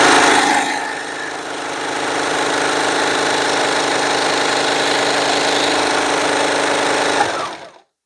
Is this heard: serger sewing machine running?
yes